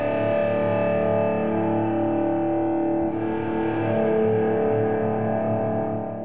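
A sustained, distorted electric guitar tone washed in reverb from a BOSS SY-300 rings loudly and continuously through an amp, its dense harmonics shifting slightly midway.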